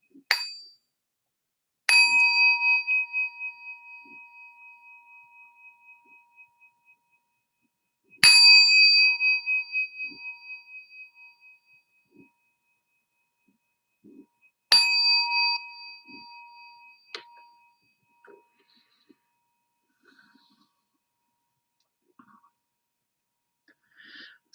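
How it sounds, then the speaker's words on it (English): A meditation bell struck three times, each clear metallic ring sustaining and slowly fading into near silence before the next strike, with faint breathing and small sounds in between. "So we'll have 3 sounds of the bell to begin."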